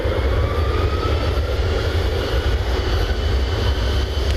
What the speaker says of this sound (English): Coming in from Phoenix, Airbus A321neo.